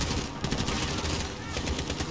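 Call of Duty: Modern Warfare campaign gunfire: rapid, continuous bursts of automatic fire over a dense, loud game mix, with dull thuds running through the short stretch.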